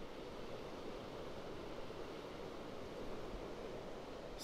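Small ocean waves about a foot high wash onto Pawleys Island beach, a faint, steady distant surf hiss with no distinct breaks, heard alone.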